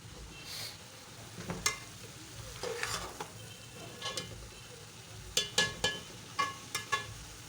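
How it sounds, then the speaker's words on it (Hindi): Aloo methi fries over a medium flame in a soft, low sizzle, punctuated by a string of spoon scrapes and taps against the pan, the stirring clacks getting quicker and more regular toward the end. "ऐसे ऊपर नीचे करके दरमियानी आंच पे बना रही हूँ इसको मैं"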